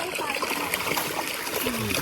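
Water flows and splashes beside a village field, a steady close burble and trickle that keeps going with faint voices in the background.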